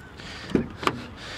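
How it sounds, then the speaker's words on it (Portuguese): Two sharp mechanical clunks about a third of a second apart, like a car door latch releasing and then shutting, against quiet background hiss. "Agora vocês vão observar a abertura e fechamento de porta do Golf."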